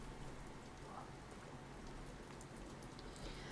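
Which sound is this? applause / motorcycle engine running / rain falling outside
rain falling outside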